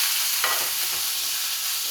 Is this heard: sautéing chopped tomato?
yes